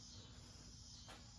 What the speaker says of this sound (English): oh man, you hear the cicadas outside too.